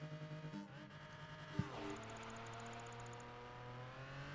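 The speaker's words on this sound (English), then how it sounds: "This car sounds like it's going to stall in second gear." A car in Project Gotham Racing 4 labours at low revs in second gear, a game engine tone that bogs down, gives one sharp knock, then settles into a steady strained hum with a faint ticking pattern above.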